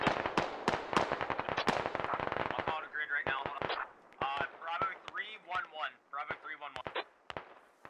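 Single gunshots from an automatic weapon in Squad, an online military shooter, fired in a rapid run of sharp cracks that thins into scattered shots as a radio-style voice talks over them.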